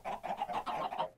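Minecraft chickens clucking in a quick, rhythmic series of soft, close clucks, faint and unaccompanied by talk.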